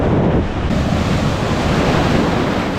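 Sea waves break and wash onto a sandy shore in a steady, loud surge, with gusts of wind buffeting the microphone throughout and no voices.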